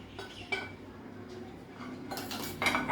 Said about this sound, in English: Then we are going to mix both the ingredients in a bowl.